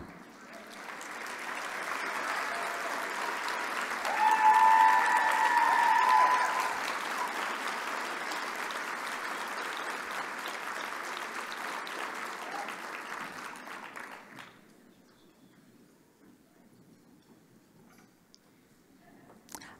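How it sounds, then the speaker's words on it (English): An awards ceremony audience at the 2018 RITA Awards gives finalists on stage a long round of applause, loud and sustained before fading away near the end. "if the finalists can please take the stage so we can give them another round of applause"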